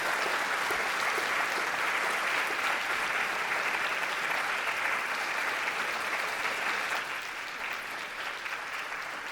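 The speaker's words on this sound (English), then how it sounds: "please join me in giving them a huge round of applause" Sustained applause from a large audience at an international moot court competition event, dense and even, tapering slightly toward the end.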